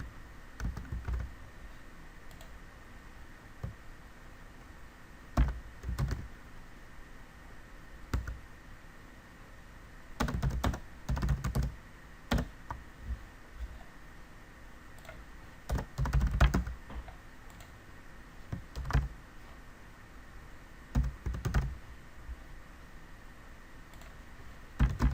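Bursts of typing on a computer keyboard, close and crisp, with clusters of quick key clicks separated by quiet pauses over a faint steady hiss.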